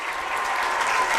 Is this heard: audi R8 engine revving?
no